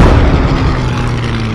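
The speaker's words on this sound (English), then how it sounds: "So there are actual planes now." Warplane passing overhead in the WWII shooter Post Scriptum, a loud, steady low roar with rumbling engine drone that holds evenly throughout, with no talk.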